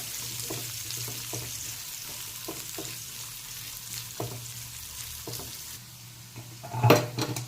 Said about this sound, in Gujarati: તેલ જો થઈ ગયું છે તો હવે પહેલાં આપણે ડુંગળી એડ કરી દેવાની.